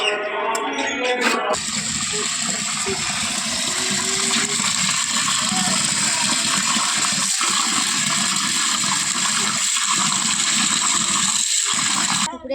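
Water pours steadily into a tank as a pond is drained, a continuous rushing gush with a mechanical rattling undertone from the pump, loud and close throughout, with a few brief dips near the end.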